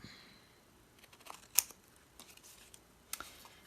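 Scissors trim pink paper in a few crisp, close snips, one sharper cut standing out, with soft paper rustling between them in a quiet room.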